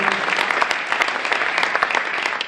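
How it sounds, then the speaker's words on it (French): An audience at a gala round-table event applauds, a full, continuous burst of clapping heard up close without any talking. "On peut l'applaudir, Yannick Robichon, président de Décolletage de la Garenne."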